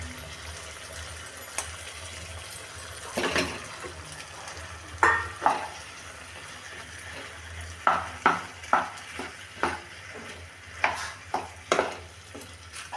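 Pasta is stirred through red sauce in a pan, a low simmering hiss under a run of sharp spatula scrapes and knocks that come in quick bursts toward the end, close by.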